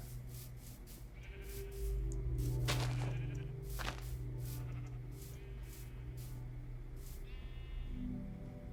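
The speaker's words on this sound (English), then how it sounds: "Lonely little sheep all by itself." A sheep bleats a few times in Minecraft amid game sound effects, sharp clicking hits, and a low background drone.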